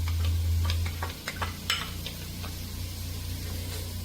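Blended tomato and spices hit a hot tempering for chicken and spinach pasta, giving a sharp sizzle burst, then a spoon scrapes and stirs in several distinct strokes over a continuing low fry.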